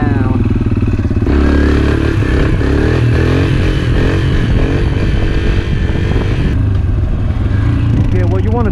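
A TTR dirt bike engine revving loudly and close up during wheelie practice, its pitch rising and falling with throttle, with clatter and scraping throughout.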